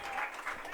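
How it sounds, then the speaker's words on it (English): A crowd at a college softball game applauds a pitcher leaving after a solid outing, a brief burst of distant clapping. "as Danny Kahn gets a round of applause here for a solid outing and 6+ innings."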